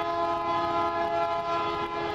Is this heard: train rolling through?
yes